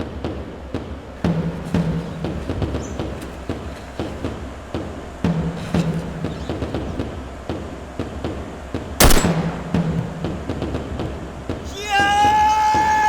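Gunfire in a World War II Royal Air Force battle against the Luftwaffe: a sharp burst of shots rings out over repeated rumbling engine-like rhythms, with a rising whistling tone toward the end.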